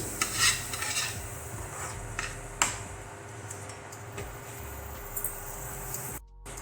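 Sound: stirring garam masala powder into tadka in a pan

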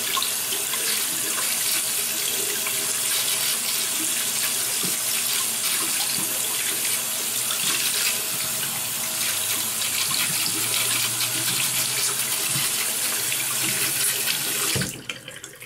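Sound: water running from a tap

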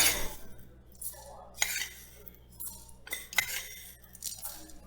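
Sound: spoons clinking while measuring cumin and coriander seeds

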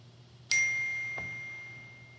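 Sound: phone beeping

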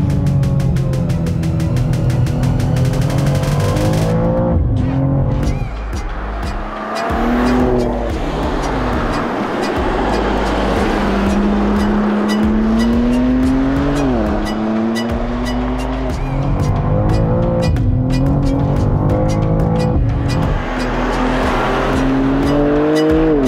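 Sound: new BMW M2 engine and driving sound

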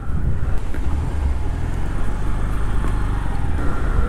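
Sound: motorbike riding with passenger on road

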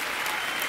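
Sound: audience applause

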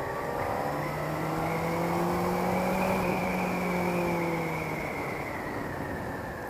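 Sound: motorcycle engine running after first service with new oil

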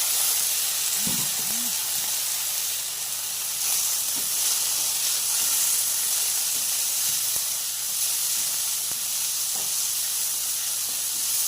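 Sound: tomatoes sautéing in a pan for squid stir-fry

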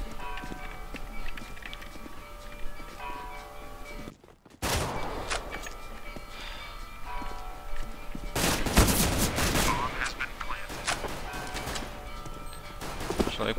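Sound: gunfire in a competitive shooter video game

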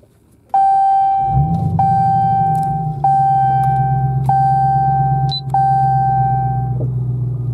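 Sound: Dodge Challenger SRT Hellcat Redeye engine starting with push button

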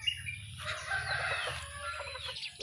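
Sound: chickens clucking and rooster crowing

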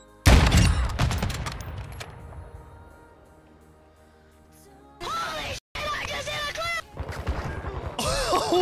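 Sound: sniper rifle shot in the video game Call of Duty

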